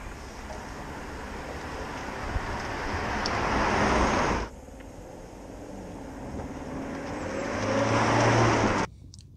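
A Peugeot 508 PSE drives on a rain-slick, leaf-covered road, heard as a steady hiss of tires on wet tarmac and a low engine hum that builds, cuts off abruptly, then builds again.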